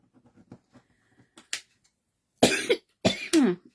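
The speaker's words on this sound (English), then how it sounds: "I do suffer with them, with a cough" Soft clicks and taps, then two loud, close coughs, each a double burst, with quiet gaps between.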